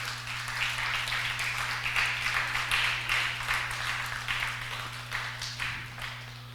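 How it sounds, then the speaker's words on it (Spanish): A church congregation claps together in a sustained, uneven round of applause, broadband and steady across the whole stretch, with a constant low electrical hum running underneath. "den un aplauso al Señor y a estas mujeres"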